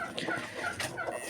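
A hen in a nesting spot clucks several short, close, nasal notes in quick succession, with no voices.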